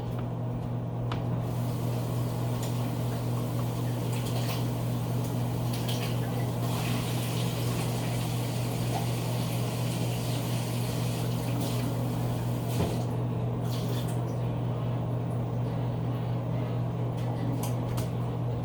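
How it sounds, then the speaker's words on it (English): Tap water runs steadily from a kitchen faucet over big pieces of broccoli being rinsed, a constant close hiss and splash with slight shifts as the florets move under the stream. "So I've got a few big pieces here. I'm gonna rinse them off a little bit."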